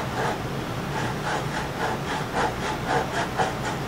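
Wood for a Strat guitar neck being hand-sawn along a straight edge, with steady rhythmic rasping strokes about two per second, close and fairly loud, with no talking.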